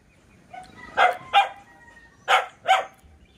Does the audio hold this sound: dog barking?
yes